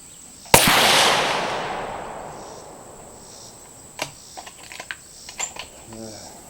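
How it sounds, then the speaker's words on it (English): A rifle fires a single handloaded round of 24.8 grains of IMR 4064 powder. One loud, close crack rings out and its echo fades slowly, followed by a few faint clicks and handling noises. "Gun was moving a little bit on that shot"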